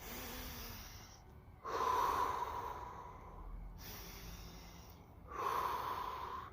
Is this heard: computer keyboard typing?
no